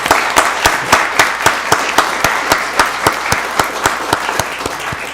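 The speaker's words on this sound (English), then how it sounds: "Let's give the citizens who participated a round of applause." Applause at a county board of commissioners meeting for participating citizens; loud, dense clapping from a room full of people, with one strong, regular clapper close by keeping a steady beat over the crowd.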